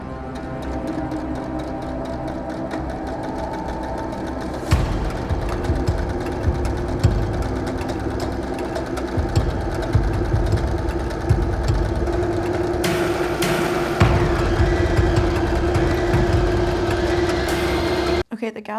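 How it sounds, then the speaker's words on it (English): A home sewing machine with its thread tension off, stitching a dress and pulling the fabric into gathers, runs as a steady mechanical whir with several stops and restarts, close by. "My sewing machine tension is off and it's creating gathers."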